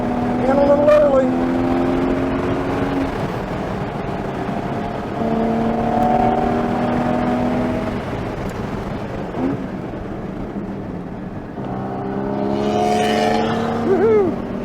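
Porsche Cayman GT4 race car engine lapping a track, revving up through gears in rising sweeps, with an early short shift, a lull and another hard climb near the end, loud and close from inside the car.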